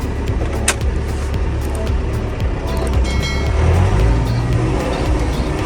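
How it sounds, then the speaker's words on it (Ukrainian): A John Deere 6310 tractor of about 100 horsepower rumbles steadily in reverse, heard close and loud with a constant low engine drone and some rattling throughout. "І ще покажу, як працює реверс без щеплення."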